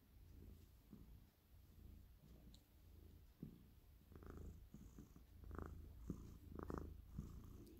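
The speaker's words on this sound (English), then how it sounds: "You're purring." Cat purring softly up close, a faint rhythmic rumble with several louder breathy pulses in the second half.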